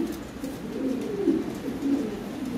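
Lahore pigeons coo in soft, low, rolling phrases close by, with no voices over them.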